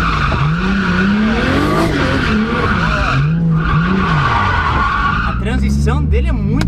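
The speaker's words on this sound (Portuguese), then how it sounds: "E no traçado fazer drift." Car drifting on a race track, tires squealing and skidding in long wavering bursts over a loud straining engine, with voices talking over parts of it.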